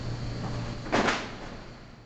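A refrigerator door pops open from built-up pressure, a single short thud-like release in the middle of a quiet, faintly humming room.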